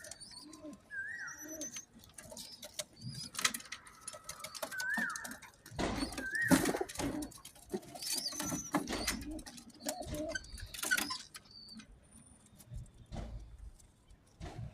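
Pigeons in a loft, including large males and females, give soft repeated coos and chirps at close range over light rustling and occasional clinks.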